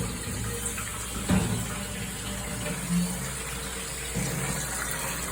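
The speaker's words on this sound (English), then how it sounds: "So then turn on the water." Water runs from a tap into a container being filled, a steady close rush lasting several seconds with a few small clunks, no talking.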